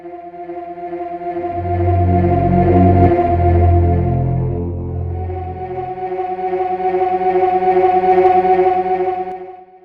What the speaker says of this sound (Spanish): el tema nos sorprende con la entrada de un sombrío sintetizador que suena así